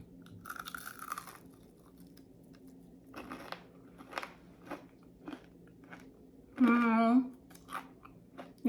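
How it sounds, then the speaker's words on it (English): Crisp onion pakora bitten into, with several close, sharp crunches followed by chewing, and a short voice sound in between. "Let's hear the crunch."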